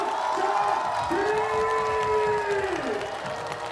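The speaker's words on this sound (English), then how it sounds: "Getting a huge round of applause." Big crowd cheering, whooping and applauding after a rider's run at a women's BMX freestyle park world cup final in Shanghai, a sustained roar with a loud whistle-like whoop rising over it.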